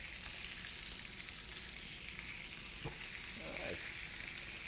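Steady hissing and crackling of fish frying in a preheated cast iron pan, continuous and fairly quiet, with a faint clink partway through.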